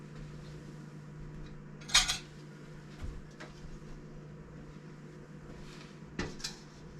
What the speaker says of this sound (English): Now I'm going to go ahead and set the soup on the wood stove.